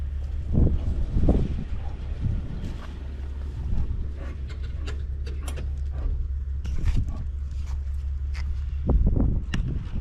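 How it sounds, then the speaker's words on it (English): Steady outdoor wind blowing at about 15 to 20 miles per hour, a constant low rumble buffeting the microphone, with a few faint rustles and footsteps-like thuds over it and no talking. "Wind's blowing about 15 miles an hour, maybe 20 miles an hour."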